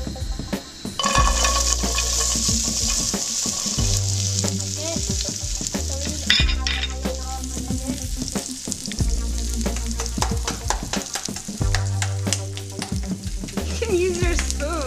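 Cut okra frying on high heat in a pan while being stirred, a loud steady sizzle with repeated scraping and knocking of a spoon against the pan, close and continuous.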